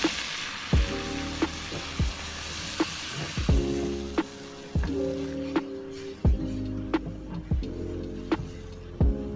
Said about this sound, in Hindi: बटर के मेल्ट हो जाने के बाद हम मैदा डालेंगे।